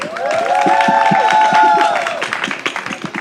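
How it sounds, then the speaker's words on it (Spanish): A studio audience at the debate show DemocraZia con Z claps dense and close, with cheering and whooping voices rising over it before the noise eases off. "Un aplauso"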